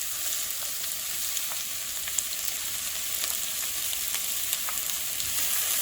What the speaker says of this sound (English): Next, we're going to add the onions,